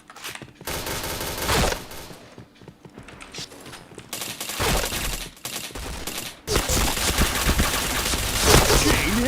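Gunfire in the online shooter PointBlank: loud bursts of rapid automatic fire alternate with short pauses and single shots, with faint voice in the background.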